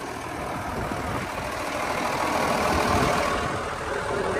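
Tractor engine idling at a steady, moderate rumble nearby during a potato harvest, with no speech.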